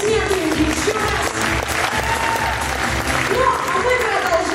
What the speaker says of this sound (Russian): Поэтому бурные аплодисменты им еще раз.